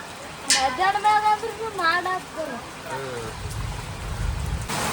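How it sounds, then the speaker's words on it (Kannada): Heavy rain pours down steadily, a dense hiss throughout, with a voice speaking over it in the first half. "ಗಾಯ್ಸ್ ಮಳೆ ಸಿಕ್ಕಾಪಟ್ಟೆ ಮಳೆ ಬರಕತ್ತದ ನೋಡ್ರಿ"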